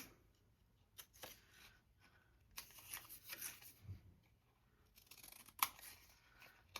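Scissors snip through paper ephemera in faint, close, irregular cuts, with small rustles of paper between the crisp blade closures.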